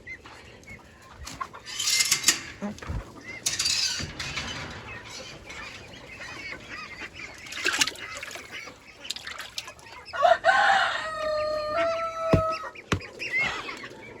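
Chickens cluck and squawk on and off nearby, with scattered louder calls and rustling in between.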